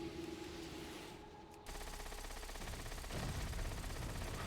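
Full-auto gunfire in World of Warcraft rattles steadily as a dense, continuous rapid burst under a constant game soundscape, briefly dropping out before resuming louder and more intense.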